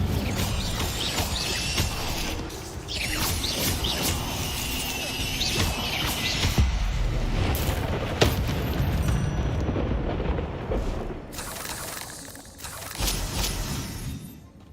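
Hogwarts Legacy gameplay with the Incendio fire spell: dense crashing, whooshing bursts of flame and impacts pile up continuously at a loud, busy level, with no voice over them.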